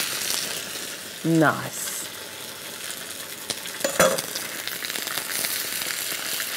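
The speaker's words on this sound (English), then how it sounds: "cooking it skin side down in my pan here" Crayfish or prawn pieces searing skin side down in a hot frying pan, a steady broadband sizzle running throughout with a brief clatter as a piece goes in; a short spoken word sits near the start.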